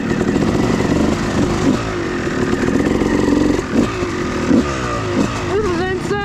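Engine of a 2005–2007 Kawasaki KX250 two-stroke dirt bike revving on overgrown trails, a loud, close, steady buzz with rising throttle blips, and a voice talking over it.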